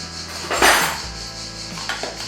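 A spoon clinks and scrapes against a bowl while scooping cooked baby semolina and purée, a brief close clatter of cutlery on dishware.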